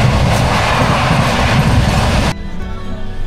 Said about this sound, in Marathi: आपली ट्रेन सकाळी 6:30 वाजता सियालदा स्टेशनवरून निघाली